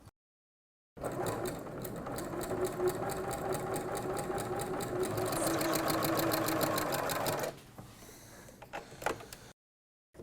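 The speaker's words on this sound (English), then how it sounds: "Lining this quilt bar up with the previous stitch line as I sew the next one is going to make sure that they're parallel." A Janome sewing machine quilts parallel stitch lines across a tote bag panel, its motor whirring steadily and loudly for several seconds before stopping, followed by a few soft handling clicks.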